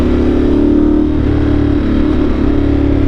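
A Ducati 1200 Multistrada Enduro's engine runs loud and close, a deep, steady throbbing drone with slight swells in revs over a few seconds.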